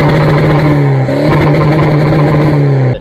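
A car with a loud exhaust revs hard at a stance car meet, one steady, close, droning blast that holds for about three seconds and then cuts off.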